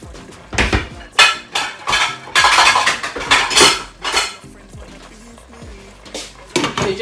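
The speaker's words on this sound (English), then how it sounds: "So you just put the lid on top like so." A metal lid set on a pot of cooking spaghetti, heard as a run of close, loud clanks and rattles of metal on metal, several sharp hits spread across the stretch.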